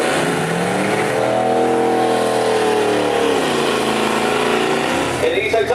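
A 1974 Oldsmobile race car at a drag race roars loudly, its engine pitch sweeping up and then dropping as it accelerates past, steady and dominant throughout.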